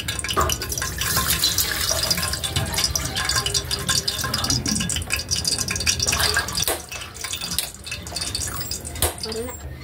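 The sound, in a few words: water poured into pot for shrimp sinigang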